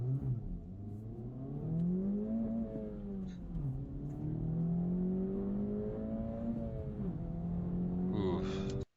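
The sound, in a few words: car engine accelerating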